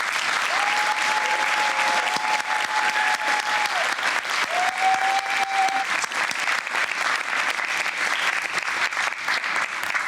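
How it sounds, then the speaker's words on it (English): A live talk show audience applauds the guests, with dense, steady clapping that fills the room without pause, loud and close, and a few faint whoops over the top. "give me a round of applause for our amazing guests"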